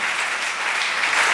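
A church congregation applauds in a thick, continuous wash of clapping hands, loud and steady for its whole short length, with no talk on top.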